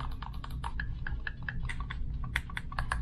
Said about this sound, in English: got those mouse clicks.